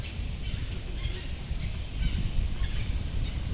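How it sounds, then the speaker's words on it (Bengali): Birds call repeatedly at a beach resort on Neil Island in the Andamans, with honking, squawking notes rising over a steady low rumble that may be sea or wind, with no talking. "এখানে পাখির ডাক শোনা যাচ্ছে, খুব সুন্দর।"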